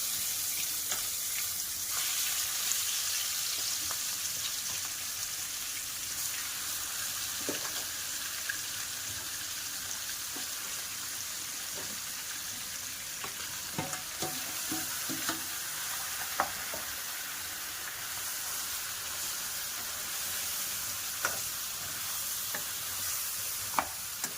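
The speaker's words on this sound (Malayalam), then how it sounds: "നമുക്ക് നമ്മുടെ ചിക്കന് ഇങ്ങനെ ഈ എണ്ണയിൽ കിടന്ന് ഇങ്ങനെ ഒന്ന് ചെറുതായിട്ട് ഒന്ന് പകുതി വേഗം വെന്ത്" Chicken pieces fry in hot oil with mustard seeds, a continuous close sizzle and crackle with occasional pops and stirring scrapes over a long steady stretch, without talk.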